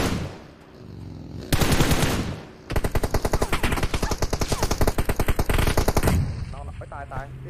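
Loud, close automatic gunfire in a video game shooting practice room, a short burst followed by a long rapid stream of shots, with a voice speaking briefly at the start and end.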